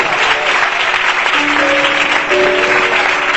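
A church congregation applauds for God, a steady, energetic roar of clapping with a few held voices rising through it, continuous and loud throughout.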